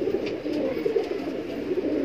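Soft, low cooing of Kasni makoo pigeons, several overlapping coos repeating in a steady rhythm, close by with no talking.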